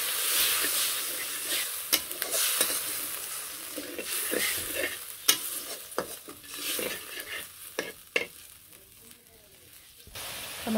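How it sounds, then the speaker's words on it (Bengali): A spice paste cooks down with added water in a pan for a singhi fish dish, a soft bubbling sizzle with scattered spoon scrapes and clinks, fairly quiet and close. "আর একটু জল দিয়ে দিই, মশলাটা কষিয়ে নিই জল দিয়ে।"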